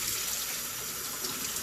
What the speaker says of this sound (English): we cool them off with some cold water